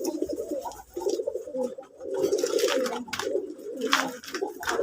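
Domestic pigeons, including Jalali-coloured birds, coo softly at night in a home loft, with repeated overlapping throaty calls close by.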